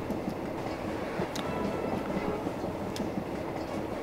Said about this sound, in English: So I gotta traverse a whole bloody train